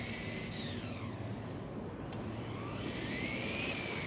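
A Traxxas 4Tec VLX 2.0 RC car with 100K diff oil in the front drives on 32-degree concrete with little traction. Its electric motor gives a steady whine, with pitch sweeping up and down as it speeds and slows.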